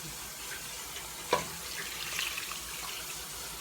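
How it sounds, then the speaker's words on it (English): Tap water running steadily into a cooking pot nearby, a continuous hissing rush with a brief clunk early on. "I'm gonna get some water in it."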